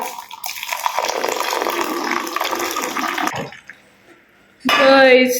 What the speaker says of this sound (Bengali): এবার একদম উপর থেকে যত উঁচু করে দিবা তত বেশি ফেনা ধরবে উপর থেকে দুধ দিয়ে দিবা